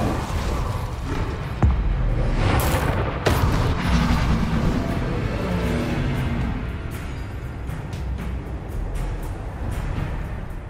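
Incendio, a fire spell cast in Hogwarts Legacy, erupts in a loud, dense roaring rumble with a couple of sharp impacts early on, then settles into a sustained crackling, booming wash without speech.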